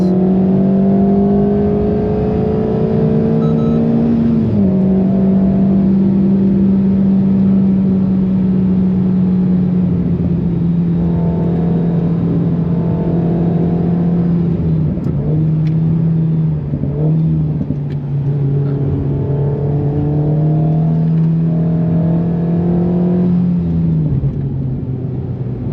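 An Alpine A110 R laps the Nürburgring in track mode on cold Cup 2 tyres, its engine droning loud and steady from inside the cabin, pitch rising and falling with gear changes and throttle lifts.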